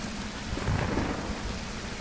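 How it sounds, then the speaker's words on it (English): A heavy rainstorm pours down in a dense, constant hiss while thunder rumbles low and broad underneath, swelling briefly in the middle. "Enjoy the stormy weather. It's been raining here for like the past couple of days."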